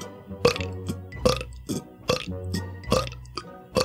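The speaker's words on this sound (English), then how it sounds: "I can burp 15 times in a minute." A person burps over and over in quick succession, five loud, deep belches at a roughly steady rhythm, close to the listener, with nothing else heard.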